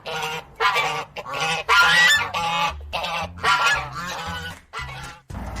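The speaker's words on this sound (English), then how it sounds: "So these are Chinese white geese." Chinese white geese honk loudly and close by, a rapid series of harsh, nasal calls overlapping in short bursts with brief pauses between them.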